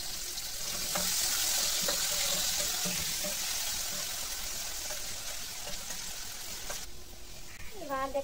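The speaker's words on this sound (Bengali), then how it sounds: "এবার আমি আলুটা ভেজে নেব। সেম এরকম করে আলুটা ভেজে নিতে হবে।" Potatoes fry in a pan, giving a loud, steady sizzle that fills the whole stretch, with a voice speaking at times and some clinking and running water near the end.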